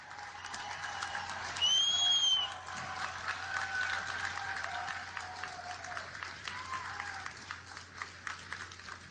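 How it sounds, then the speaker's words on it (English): An audience applauds during a speech in New York, a soft, distant wash of clapping that swells briefly early on, then settles into a steady patter and slowly thins out. "They deserve our applause."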